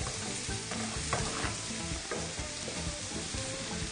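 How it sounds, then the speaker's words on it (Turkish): Chopped onions sauté and sizzle in a hot pan while being stirred, a steady close crackling frying sound with scraping and stirring bursts throughout. "Evet birazcık daha kavrulsun soğanlarımız."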